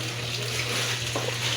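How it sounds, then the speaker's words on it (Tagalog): Water runs from a tap into a container, a steady close gushing rush with a low hum underneath, continuous and without speech. "Oy, Kurt, napuno na ang tubig, Kurt."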